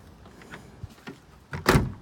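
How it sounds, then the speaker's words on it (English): Doors and trunk of a used car are opened, with a few soft clicks and thumps followed by a louder latch release and a heavier clunk near the end, close by and without talk. "try to open all the doors in the car as well as in the trunk"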